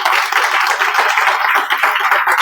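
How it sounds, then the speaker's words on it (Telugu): An audience at a direct-selling meeting gives the speaker a big round of applause, a dense, even wash of many hands clapping at once, loud and sustained without pause. "ఒకసారి బిగ్ రౌండ్ ఆఫ్ అప్లాజ్ ఇద్దాం మేడం గారికి"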